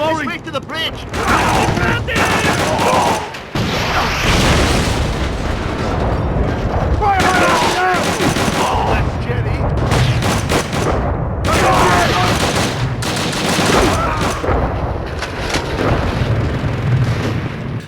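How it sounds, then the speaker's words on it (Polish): A Sten submachine gun firing in the PSP game Call of Duty: Roads to Victory, dense bursts of gunfire and booms that run almost continuously in a loud battle mix, with someone talking over it. "ten pistolet maszynowy Sten daje radę sobie e, w tej grze"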